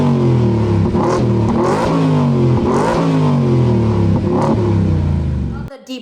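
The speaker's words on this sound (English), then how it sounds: "Deep rumble of the F-150. What a great sound it has." A 2023 Ford Raptor R pickup with a Mustang GT500-derived engine revs hard in Baja mode, repeated deep rising and falling bursts up close, loud and alone before cutting off abruptly.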